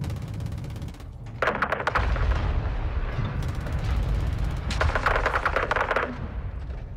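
Rapid small arms fire from cartel gunmen at a gas station in Modern Warfare 2 crackles in two sustained bursts over a constant low rumble of battle, fairly close and loud, with no talking.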